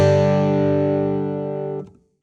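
A single sustained, heavily overdriven acoustic guitar chord played through a Fender Smolder Acoustic Overdrive pedal rings loudly, then is abruptly cut off.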